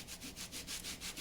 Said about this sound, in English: I'm just rubbing it with a cloth that's about to go into the wash.